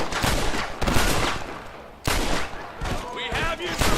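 Gunfire in the western game Red Dead Redemption, rapid bursts of loud close shots in clusters, with shouting voices mixed in.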